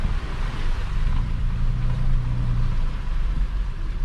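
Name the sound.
Nissan Frontier with solid axle conversion driving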